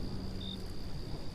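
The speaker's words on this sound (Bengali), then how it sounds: "চারপাশে ঝিঝি পোকা ডাকছে।" Crickets chirp at night during rain, a thin, steady, high trill running continuously over a soft wash of rainfall, with no voices.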